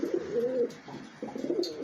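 Pet pigeons, including a red hen paired with a male, coo close by in a loft, two soft rolling coos separated by a short pause, quiet and unaccompanied.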